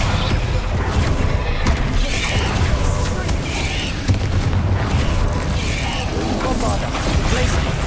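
Bombarda explosion spells go off during Hogwarts Legacy combat: repeated heavy booms and crashing debris over a steady loud battle din, with one sharper blast about midway.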